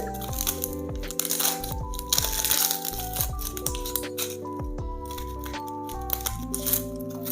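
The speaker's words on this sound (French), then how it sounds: "Passer à la préparation de nos oignons. Donc on commence simplement par les éplucher." Dry onion skins being peeled by hand give off crisp crackling and crinkling, steady and close, under continuous music.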